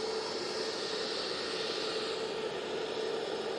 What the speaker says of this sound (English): But Virgin Atlantic A350 1000 now coming in from New York JFK.